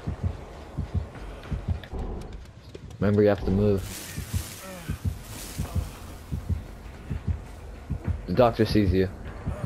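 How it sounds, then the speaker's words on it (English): The killer's heartbeat warning in the horror game Dead by Daylight, here the Doctor approaching: a steady rhythm of deep thumps that runs throughout while a person talks over it. "I hear a heartbeat."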